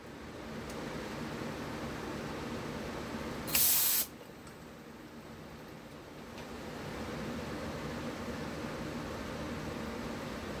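A spray gun run on air alone at about 50 PSI blows glitter onto a tumbler in one loud, close hiss lasting about half a second, set against a steady low background hum.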